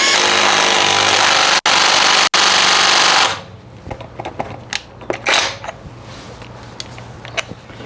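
A Kimo 20V cordless impact wrench hammers a nut loose in one loud, continuous rattling burst with two short pauses, then falls silent, leaving faint clicks and handling clatter.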